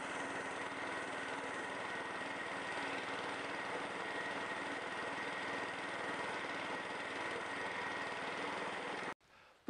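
A Honda GX engine powers an Allett Buffalo 20 cylinder lawn mower, running in a steady, even drone at close range for several seconds before cutting off abruptly near the end.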